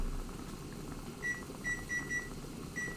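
A kitchen timer sounds a series of short, clear electronic beeps in quick succession, a brief pause and then one more, over low room hum.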